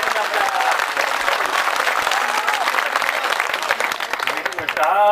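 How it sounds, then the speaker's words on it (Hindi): Audience applause rings out at a mushaira poetry gathering in Nirmal, with dense, sustained clapping filling the hall for about five seconds before tapering near the end. "एक बार अपनी तालियों की गड़गड़ाहट से मुझे इजाज़त दीजिए।"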